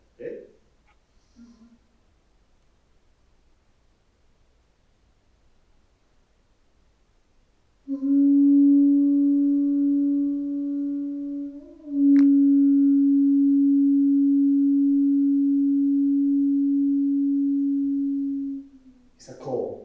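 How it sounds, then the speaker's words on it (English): Traditional Venezuelan guarura conch shell horn blown as a call, one loud sustained low steady tone lasting about ten seconds with a brief break midway, heard alone in a quiet room, with brief voice sounds before and after. "the guarura sound, again, is a shell"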